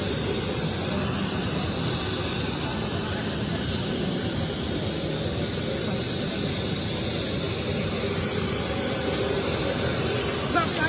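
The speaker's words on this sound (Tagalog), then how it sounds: "Kasalukuyan nandun na po sa loob si Pangulong Duterte ng isang private jet" A private jet carrying a head of state with its engine running, a loud, steady roar and hiss that holds unchanged throughout, close and continuous.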